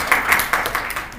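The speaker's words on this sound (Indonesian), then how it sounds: "Oke, tepuk tangan untuk Hartley." A classroom of students claps their hands in brief applause, a quick burst of close, overlapping claps lasting about a second.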